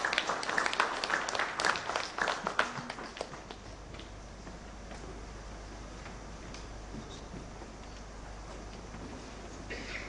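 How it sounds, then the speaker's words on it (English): An audience at a 2017 housing conference claps as a speaker walks to the podium, a brief burst of scattered applause that fades into a quieter room hum. "Let's give him a round of applause as he comes to the podium."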